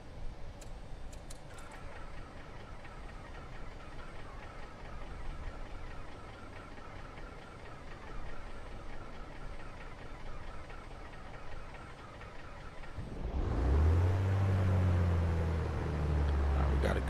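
Number-one engine of an Aerostar 600 aircraft cranks to life after a long stretch of low, steady cockpit hum, bursting into a loud, deep, close roar that holds to the end.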